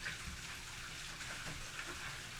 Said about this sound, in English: after this waterfall behind me stops waterfalling